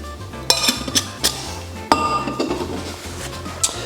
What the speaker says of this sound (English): Let me just shake this up a little bit without any ice or anything else.